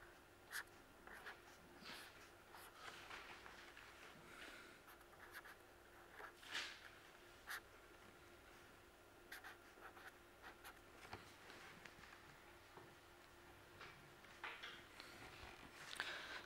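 Chalk or marker writing equations on a board during a lecture on the Sun, soft scratchy strokes and taps coming in irregular bursts, faint and close, with no voice.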